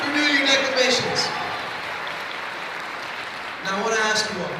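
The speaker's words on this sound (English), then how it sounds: "can we get another round of applause for our declamation speakers" An audience claps through a steady round of applause after declamation speeches, with a voice speaking over the start and end.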